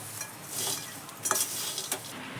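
Chivda with masala and salt being stirred and fried in a pan, a soft continuous sizzle broken by a few sharp clinks and scrapes of a spoon against the metal, close and fairly quiet, with no speech.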